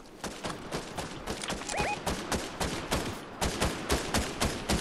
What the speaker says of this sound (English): Gunshots to our right.